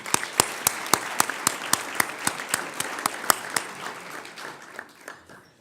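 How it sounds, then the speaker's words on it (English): Applause from a press club luncheon audience at a Washington event, with a few loud, distinct claps standing out over steady clapping that gradually thins and fades out. "Let's give them a round of applause."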